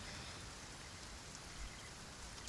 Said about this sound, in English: Because it's constantly raining